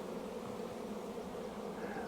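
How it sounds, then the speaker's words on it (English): Honey bees swarming at a crowded hive entrance, a close, steady droning hum of many wings without pause, no voices. "There's a lot of bees out at the entrance"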